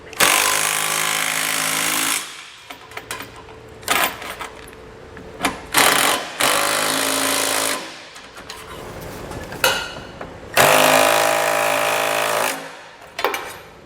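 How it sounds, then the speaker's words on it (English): A ratchet on a swivel tightens trailer hitch bolts under a 2020 Honda Odyssey, with loud, close bursts of rapid clicking separated by brief pauses and clanks. "use a swivel. That way we can get in there easily and tighten all the bolts down"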